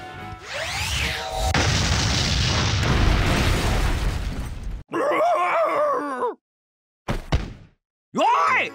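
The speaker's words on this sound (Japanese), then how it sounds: "爆裂魔法で結界ごと全部吹っ飛んじまったじゃねえか" A magic explosion blast in the KonoSuba Fantastic Days video game: a loud sustained roaring boom for several seconds, followed by a voice crying out in short bursts.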